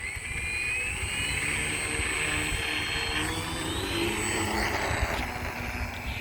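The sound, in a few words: model aircraft taking off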